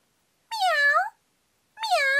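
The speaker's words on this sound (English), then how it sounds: "Meow. Meow." A cat meows twice, loud and close, in a toddler animal-sounds lesson; each call is a drawn-out, falling meow, with a clear pause between them.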